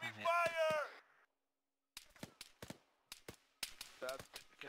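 Gunfire in the Arma 3 military video game: a burst of shouting comes first, then after a short silence come a scatter of soft, sharp cracks in uneven clusters, fairly quiet and distant-sounding.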